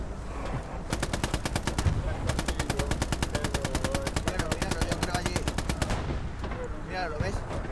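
Rapid automatic fire rattles in long, evenly spaced bursts in Hell Let Loose, with the enemy tank firing from behind a wooden house at moderate distance, and voices faintly beneath.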